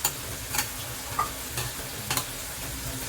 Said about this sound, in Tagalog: Guys, pwede na natin ilagay yung munggo.